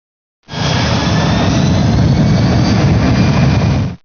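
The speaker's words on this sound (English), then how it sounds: "The EEC now sets maximum reverse thrust." Boeing 737NG jet engine running at maximum reverse thrust, a loud, steady broadband roar that starts abruptly, holds for about three and a half seconds and then cuts off, with no other sounds.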